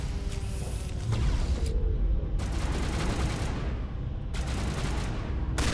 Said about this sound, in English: I'm gonna grab my shotgun.